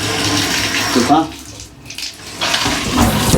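Water runs from a newly fitted bath mixer tap into a bath with pop-up waste, a steady rushing flow that dips briefly mid-way before surging again, with some background noise around it.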